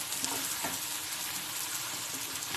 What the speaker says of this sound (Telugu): ఇలా కలిపి కొంచెం ఎర్రగా అయ్యే వరకు వేయించాలి.